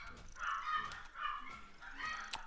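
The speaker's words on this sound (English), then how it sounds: "Binks, Leia, why are you even barking? There's no one outside" Pet dogs indoors giving a few short, fairly faint barks and yips in quick succession, close-sounding but soft, with no other sound around them.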